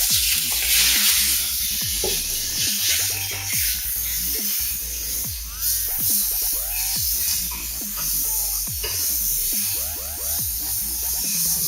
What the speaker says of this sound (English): Okay, so it's got that sizzle sound.